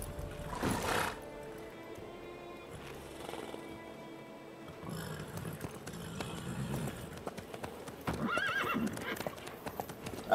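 A horse clip-clops along with clear hoofbeats and sharp neighs in The Witcher 3 video game, sounding close and fairly loud. A whinny comes early, then irregular hoof strikes follow with a background ambience.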